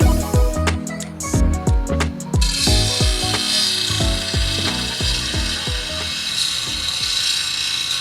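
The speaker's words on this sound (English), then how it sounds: "Sharpening a shovel" A shovel blade is sharpened, with a run of rapid, rhythmic rasping metal strokes that give way to a steady, hissing grind, close and fairly loud, with no voices.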